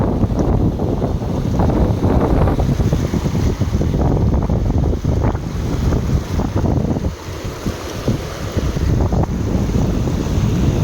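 Loud, steady rushing of floodwater draining from village farm fields flows without pause, a broad roaring wash buffeted by wind noise against the microphone.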